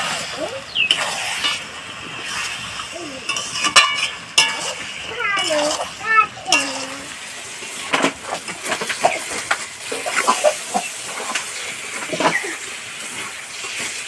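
Broiler chicken pieces tip into spiced oil that has been fried down with tomato, setting off a steady hiss and sizzle, with scraping stirs and clinks of a utensil against the pan throughout.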